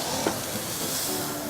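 A salmon fillet, just flipped, sizzles and hisses softly in a hot pan. The frying noise is faint and steady, with no voices.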